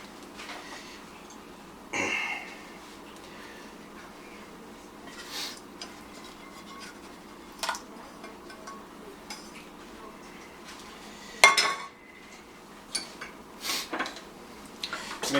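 Steak and mesquite red sauce get stirred in a pan, with a quiet background broken by occasional clinks and scrapes of a utensil against cookware.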